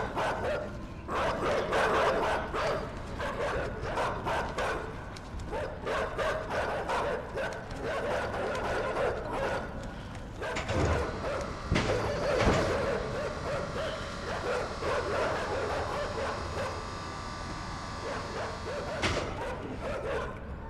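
Dogs in the video game Inside bark and yip repeatedly in an agitated, rapid series, with occasional whimpers and grunts, loud and persistent against a busy game soundscape.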